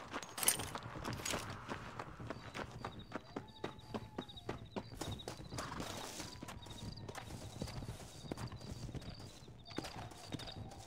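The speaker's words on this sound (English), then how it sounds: "Looks like Carlos left us some horses." Horse hooves clip-clop steadily in Red Dead Redemption, a brisk run of sharp, close hoofbeats with a faint jingle of tack, set against a soft backdrop of in-game music and ambience.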